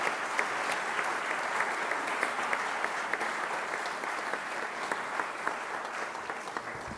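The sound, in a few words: audience applause at a council meeting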